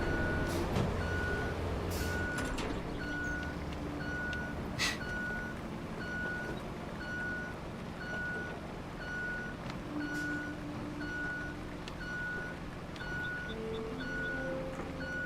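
A heavy truck idles and rumbles in a road-building video game while its reversing alarm beeps steadily and evenly throughout, with brief clanks and air-brake hisses near the start.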